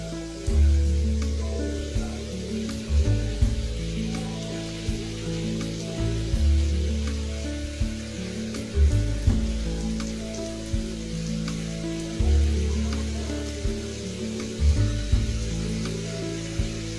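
Somas, sweet stuffed pastries, frying in hot oil over a medium flame, giving a steady close sizzle and crackle with low rhythmic bubbling surges throughout.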